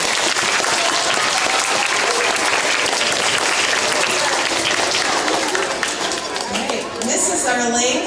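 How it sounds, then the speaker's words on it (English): A crowd gives loud, dense, continuous applause for a school group at a fifth-grade farewell ceremony, with some cheering and voices mixed in as the clapping eases toward the end. "One more round of applause for our group"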